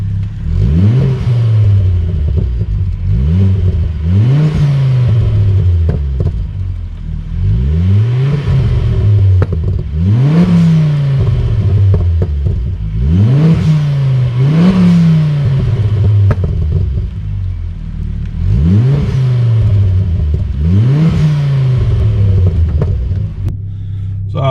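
Ford Focus ST engine and exhaust revved repeatedly from behind the car, about six loud rising blips that climb and fall back, evenly spaced over the idle rumble, close and with no voices.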